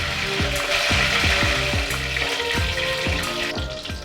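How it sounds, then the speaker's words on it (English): Curry leaves spit and crackle in heated coconut oil, a loud continuous sizzle with rapid popping bursts at close range. "I fried a few curry leaves."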